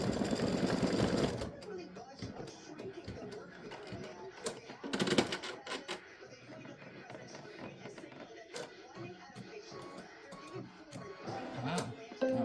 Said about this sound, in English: this is stitching the mouth, and it's a really quick stitch